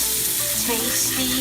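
A sausage split open down the middle sizzles loudly and continuously on a hot cooking surface, a dense close hiss with a faint voice briefly audible over it.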